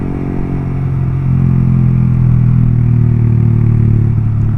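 A 2017 Yamaha R15 v3 motorcycle exhaust idles loud and close, a steady, deep, rounded bassy drone that swells slightly partway through, with no voices.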